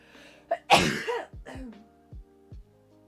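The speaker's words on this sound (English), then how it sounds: "Hold on, I'm gonna sneeze." One sharp, breathy sneeze bursts out close up, followed by a few short trailing vocal sounds.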